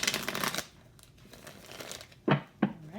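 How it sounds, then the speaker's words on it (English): Tarot cards being shuffled by hand: a soft papery rustle at the start, a quiet pause, then two short crisp riffles, close and gentle. "One more shuffle."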